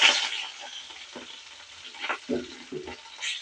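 Green chilies and cumin sizzling in a spoonful of hot oil in a pan, stirred with a utensil that scrapes in several short bursts, close and moderately loud, with no talking.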